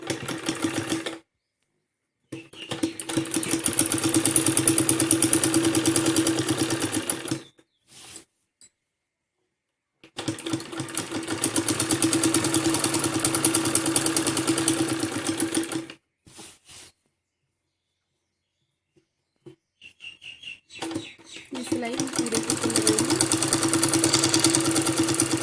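A sewing machine stitches piping on a salwar in three long, loud runs of about five seconds each, separated by near-silent pauses and a few short taps.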